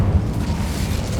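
A burst of fire from an Incendio spell in Hogwarts Legacy, a deep roaring whoosh with a heavy low rumble sustained for a moment at close range.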